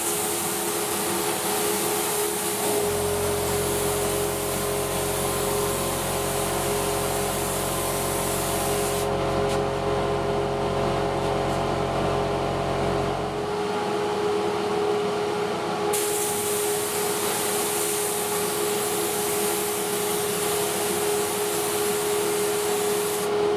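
Lacquer sprays onto a wooden end-grain picture frame in a continuous, loud hiss. The spray pauses and shifts in tone partway through, with a low droning machine underneath.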